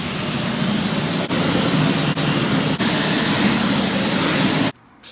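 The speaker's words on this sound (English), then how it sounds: "we're at the power wash place, so I'm gonna put the coins in" Coin-operated pressure washer spraying car wheels, a loud continuous hiss broken by three brief pauses before cutting off abruptly near the end.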